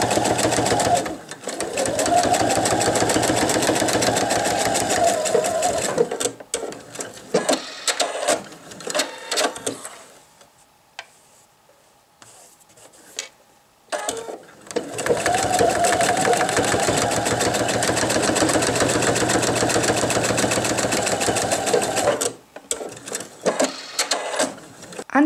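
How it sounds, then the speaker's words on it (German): A sewing machine edge-stitches a men's wallet, running in long loud bursts with a quiet pause in the middle before stitching resumes, close and with no talk. "Anschließend nähe ich von der mittleren Linie bis nach außen, knappkantig."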